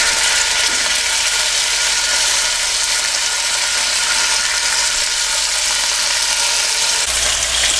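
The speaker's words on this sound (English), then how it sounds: "So we're going to sear this bacon now on both sides until the bacon becomes really crispy." Bacon searing in a hot pan, a loud, steady broadband sizzle that runs unbroken throughout, with a faint low rumble joining near the end.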